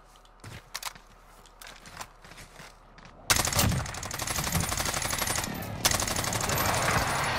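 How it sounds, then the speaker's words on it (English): Gunshots in the shooter game Call of Duty Warzone: a few sparse distant shots and footsteps, then sudden loud, continuous close automatic fire that carries on to the end, with no talk. "Where am I hearing these shots?"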